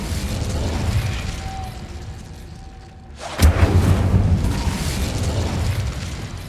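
Incendio fire spell cast in Hogwarts Legacy, a sharp crack followed by a loud whooshing burst of flame that settles into a crackling roar.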